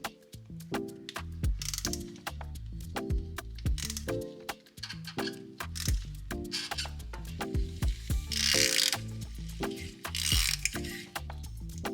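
Ratchet turning an oil filter wrench on an extension to remove a Toyota Tacoma oil filter, rapid repeated clicking pawl strokes in rhythmic bursts, close and loud, with a couple of brief rustling scrapes.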